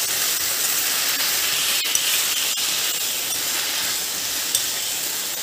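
Steady, loud sizzling and hissing of chopped okra and tomato frying in a hot pan, with a couple of faint clicks of stirring.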